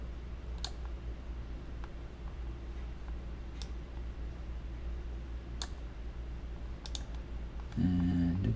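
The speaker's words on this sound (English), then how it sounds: "Notice I'm doing clicking and dragging." Computer mouse clicks while editing video: sparse, faint clicks spaced a few seconds apart over a low steady hum, followed by a brief louder tonal burst at the end.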